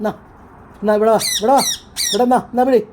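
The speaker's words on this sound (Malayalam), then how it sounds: "അപ്പോഴാണ് നോക്കുമ്പോൾ ഒരു തത്തമ്മ വന്ന് കരയുന്നു." Green parakeet in a flat in the UAE squawking in a run of loud, close, harsh calls in several bursts, with a person talking between and around them.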